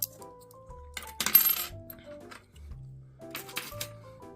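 Metal coins, including foreign coins such as Japanese ones dug up while metal detecting, clink and rattle against each other in a few close, bright bursts, handled up close with no talking.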